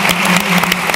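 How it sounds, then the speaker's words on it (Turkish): A studio audience on a Turkish comedy game show claps loudly as a guest comedian is welcomed on stage, steady dense applause without pause. "Alkışlar Ali Celal'e gelsin."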